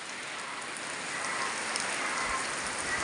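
Heavy rain pours steadily over a rice field on a rainy morning, whipped by strong wind: a dense, even hiss of drops that stays loud and close with no pauses.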